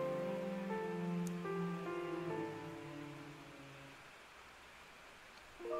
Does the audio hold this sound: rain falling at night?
yes